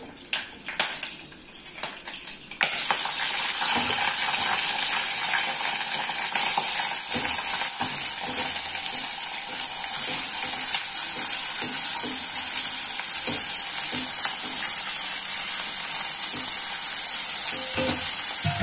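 Halved brinjal (eggplant) pieces are dropped into hot oil: a quieter start gives way to a loud, steady sizzle and crackle of frying that continues unbroken to the end, with faint stirring clatter.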